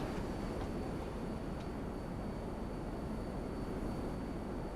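Jet engine roar in GTA Online, a dense, steady broadband rumble with a faint high whine, continuous and loud throughout with no break.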